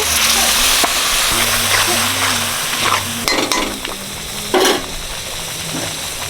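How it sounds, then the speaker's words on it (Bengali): Spices with garam masala being sautéed and stirred in a pan with a little water added, giving a steady close sizzle broken by scraping stirs and light utensil clinks against the pot. "গরম মশলা ভালো করে কষি নিচ্ছি মশলার সাথে অল্প করে জল দিয়ে দিচ্ছি"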